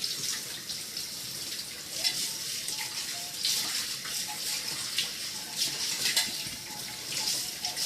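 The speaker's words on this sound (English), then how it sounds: "I throw the filter in the sink and I rinse this off." Tap water running steadily into a sink while milking equipment, including a milk filter, is rinsed, a continuous close splashing hiss with slight shifts in flow.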